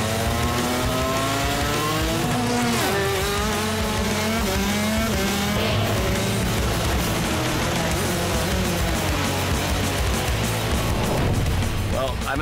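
A shifter kart races hard around a slippery track, its engine rising and falling through gears with steady loud revving throughout and occasional tire noise, with a driver talking over it.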